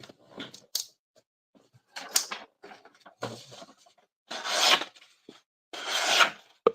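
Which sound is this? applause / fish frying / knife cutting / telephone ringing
knife cutting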